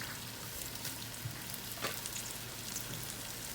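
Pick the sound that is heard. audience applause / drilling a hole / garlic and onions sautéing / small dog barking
garlic and onions sautéing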